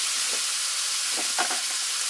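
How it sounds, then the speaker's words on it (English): Frog legs frying in a pan over a campfire, a steady bright sizzle with faint crackles and pops, close up and with no voices. "while my frog legs are frying"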